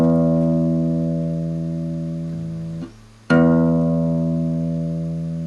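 Low E sixth string of a guitar plucked as a tuning note, ringing and slowly decaying, briefly muted, then plucked again and left to sustain, clear and alone.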